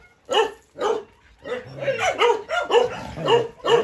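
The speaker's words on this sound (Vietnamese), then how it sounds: "Sủa rất gớm luôn." Several dogs at a dog kennel bark fiercely in rapid, loud, close bursts, some yips among them, forming a steady barrage with brief pauses.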